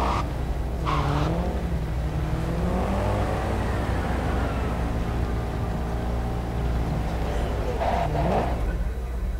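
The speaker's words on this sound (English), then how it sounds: "Wait for me here and keep the engine running." A car engine idles and revs in the video game Cyberpunk 2077, a steady low rumble with whirring tones that rise and fall. Speech-like sweeps can be seen near the start and end.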